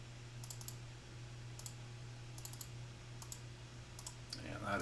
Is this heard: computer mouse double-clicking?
yes